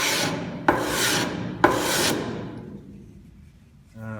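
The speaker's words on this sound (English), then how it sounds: "sandpaper stuck to a piece of chipboard, and sometimes it can help sand" A wooden spatula being sanded on sandpaper stuck to chipboard, three long rasping strokes back and forth, close and loud, followed by a quiet pause and a brief voice at the end.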